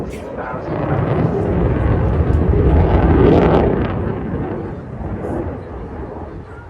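A twin-engine military jet roars past at the Bournemouth Airshow, a loud broad rumble that swells to a peak mid-pass and then fades slowly.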